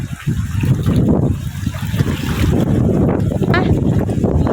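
Rough, choppy sea water sloshes and splashes close by, with heavy wind buffeting the microphone in a continuous loud roar, and a voice speaking under the noise.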